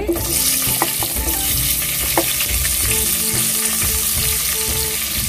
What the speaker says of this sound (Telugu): అదే నూనెలో కొంచెం కరివేపాకు వేసుకుందాము పది పచ్చిమిరకాయలండి